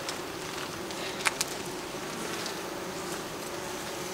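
Honeybees buzz continuously around honeycomb during a permaculture honey harvest, a dense, steady swarm drone close by, with a couple of faint knocks partway through.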